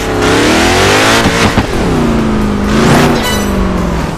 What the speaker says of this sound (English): some cars sounding like a two-stroke engine where the fuel mixture is a little too rich